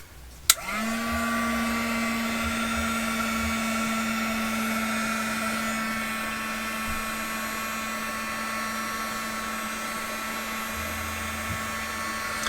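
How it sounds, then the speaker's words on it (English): A heat gun blows on glitter glue with a steady, loud whirring roar that carries a sustained hum. It starts with a click and runs without a break for about twelve seconds. "let's just hit this with the heat gun again real quick"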